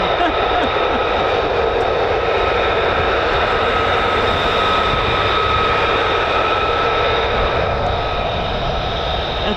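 F-35 fighter jets flying over RAF Lakenheath, a loud continuous jet engine roar with a high whine, sustained overhead, and talk faintly under it.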